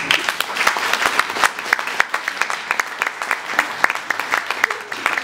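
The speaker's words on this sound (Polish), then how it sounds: "Wielkie brawa!" Applause after a Gucci fashion show at an event, many hands clapping with some sharp individual claps standing out in an irregular, lively rhythm at close range.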